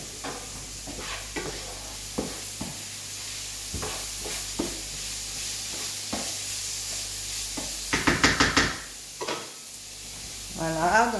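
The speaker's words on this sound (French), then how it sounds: "je vais remuer encore mes oignons." Onions stirred in a frying pan, a steady sizzle running under scattered scraping and clinking of the utensil, with a burst of louder rattling knocks near the end.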